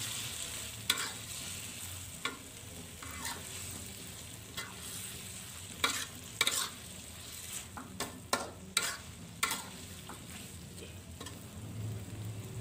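Pak choy and scrambled egg stir-fry with a splash of added water being stirred in a pan, a soft low sizzle under intermittent sharp scrapes and clacks of the spatula, fairly quiet and without talk.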